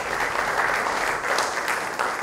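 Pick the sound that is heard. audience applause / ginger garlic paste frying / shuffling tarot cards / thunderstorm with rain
audience applause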